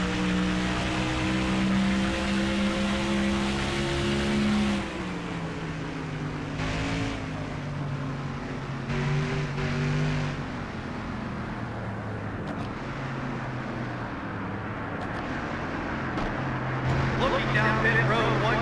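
NASCAR race cars on pit road at the 2004 UAW DaimlerChrysler 400 in Las Vegas, a steady engine drone with a shifting pitch as a car slows down pit lane, running continuously under radio chatter and commentary.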